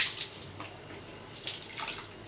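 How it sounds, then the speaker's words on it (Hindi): Water splashes and trickles while a tie-dyed dupatta is rinsed by hand, soft hissing bursts and drips coming and going at close range, fairly faint and with no talking. "हमने इसको अच्छी तरह धुलाई कर लिया है, देख सकते हैं बिल्कुल वाइट पानी निकल रहा है"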